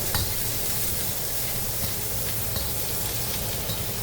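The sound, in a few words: garlic being stir-fried in wok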